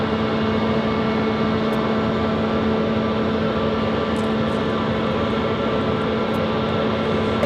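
Broad, steady jet engine roar from a Flair Airlines Boeing 737 MAX 8 and other airliners at Phoenix Sky Harbor airport, a loud continuous rumble with a faint tonal whine, no talking.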